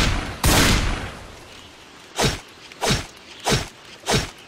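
Gunfire aimed at a large zombie boss in the mobile game Escape Countdown 24 Hours: one long burst of shots, a pause, then four evenly spaced single loud blasts.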